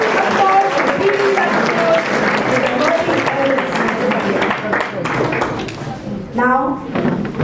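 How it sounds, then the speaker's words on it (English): A school audience applauding for Dr. Pooshan Mohapatra, sustained clapping under a voice speaking over it, with a brief musical tone rising near the end. "Let's give Dr. Poosan Mohapatra a warm and hearty applause again."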